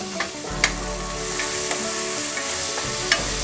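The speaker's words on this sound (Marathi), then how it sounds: "हा कांदा जरा मऊसर होईपर्यंत परतून घ्यायचा आहे।" One large, finely chopped onion sizzles steadily in hot tempering oil over a medium flame for a Bhogi mixed-vegetable bhaji, with a few sharp clinks of a stirring spoon against the pan.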